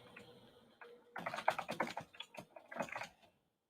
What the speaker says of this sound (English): You hear me typing, huh?